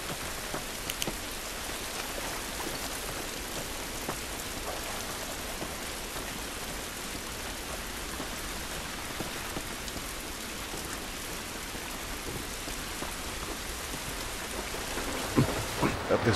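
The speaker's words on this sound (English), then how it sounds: "It's raining, but I think it's gonna be good." Heavy rain falls outdoors during a thunderstorm, a constant dense hiss of drops hitting surfaces with low thunder rumbling beneath, and a few louder spatters near the end.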